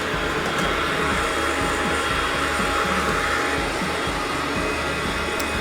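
A hot air coffee roaster with a Razzo glass chamber and extension tube runs with a loud, steady whooshing roar throughout, and the beans can't be picked out clearly in it. No one speaks.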